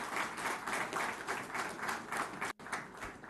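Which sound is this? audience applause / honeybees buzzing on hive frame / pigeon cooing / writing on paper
audience applause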